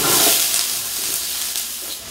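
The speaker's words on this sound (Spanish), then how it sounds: "ya que esté caliente su aceite, vamos a dorar lo que es la cebolla picada" Chopped onion frying in hot oil in a pan on a stovetop gives off a steady, close, bright sizzling hiss that holds through the clip and eases slightly near the end.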